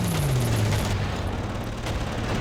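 A gun fires at a fighter plane in the Panzer Corps wartime strategy game, a rapid, dense burst of shots that rattles on loudly without pause.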